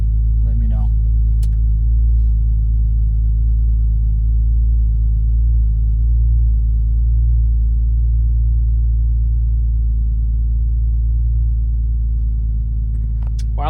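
A BMW F30 idles steadily after being restarted during an oil change at 100k miles, a loud, constant low engine drone close by for the whole stretch, with brief faint bits of speech near the start and end.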